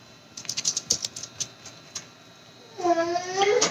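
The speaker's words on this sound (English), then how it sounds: "It's the kitty cat." A cat gives a clear, close meow near the end, preceded by a burst of rapid keyboard-like tapping and clicks in an otherwise quiet room.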